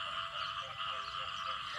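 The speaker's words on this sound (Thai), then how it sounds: "เสียงกบมันยังโห่ เป็นสนั่นหวันไหวเลยเนาะทุกคน" Dense chorus of frogs croaking loudly at night in the rural Lao countryside, a continuous overlapping drone of calls without pause, close and full, with no voices.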